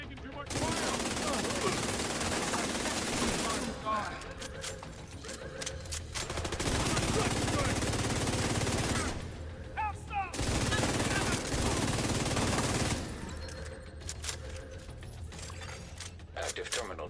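Heavy incoming gunfire in the video game The Division rattles in long, loud sustained bursts, broken by short pauses, with talking heard amid the shooting.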